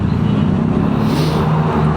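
Road traffic in Manila rumbles as a continuous, loud, low engine drone of cars on a congested city street, with no talk.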